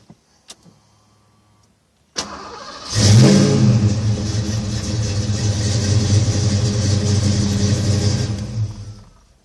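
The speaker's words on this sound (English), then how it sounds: "Now it has that kind of pop when you start it up, a little surge in the idle." A Fox body Mustang engine with a Typhoon intake is cranked and fires up after a couple of faint clicks, surging into a loud close rev that settles into a steady, slightly hunting idle.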